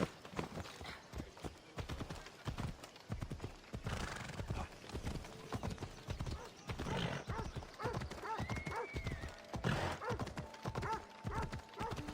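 A horse gallops in Assassin's Creed Odyssey with rapid rhythmic hoofbeats, loud and close, and brief neighs and whinnies break in over the running.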